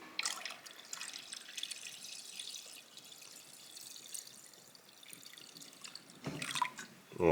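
Water poured and dripping into an ultrasonic cleaning bath during a BMW E30 parts cleaning, a soft close trickle and splashes building louder toward the end, with no talk.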